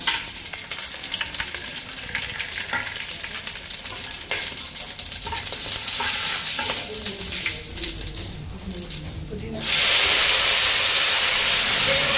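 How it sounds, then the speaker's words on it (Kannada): Oil and ghee with whole spices for ghee rice sizzle and crackle steadily in a pot, a loud continuous frying hiss with scattered pops, then a sudden louder rush of hissing near the end. "ಎಣ್ಣೆ ಮತ್ತು ತುಪ್ಪ ಬಾಯ್ಲ್ ಆಗಿದೆ"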